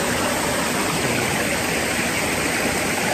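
A stream in a mountain valley rushes in a dense, steady wash of water noise. It is close and constant, with no breaks, and no one speaks.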